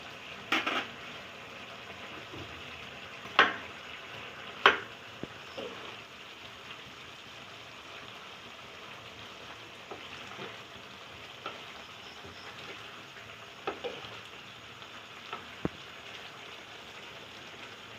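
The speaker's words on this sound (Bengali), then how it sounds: "এবারে আমি এতে গুড় মেশাচ্ছি, আখের গুড়।" Vegetables cooking in ghee as sugarcane jaggery is stirred in, a soft continuous sizzle broken by occasional sharp scrapes and clicks of a spoon against the pot, fairly quiet and without speech.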